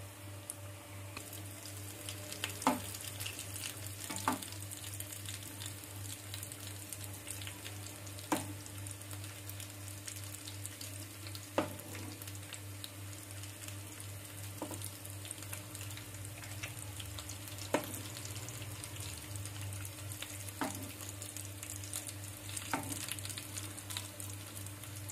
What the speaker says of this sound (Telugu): చూడండి గోల్డెన్ బ్రౌన్ కలర్ వచ్చేంత వరకు వేయించుకోవాలి